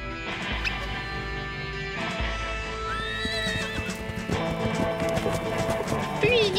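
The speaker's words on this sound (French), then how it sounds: "Un cheval." A cartoon horse whinnies over rapid clip-clopping hooves, with crashing noises and excited voices mixed into a busy, lively scene.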